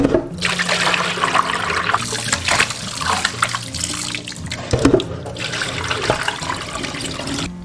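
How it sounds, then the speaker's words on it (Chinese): Water runs steadily over about 1.5 kg of raw lamb leg meat being rinsed by hand in a kitchen, a continuous close splashing rush with brief louder spurts and no voices. "先把羊腿肉清洗一下"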